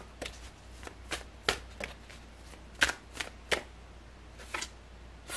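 Tarot cards shuffled by hand in a series of crisp riffling bursts, close and fairly quiet, with short pauses between them.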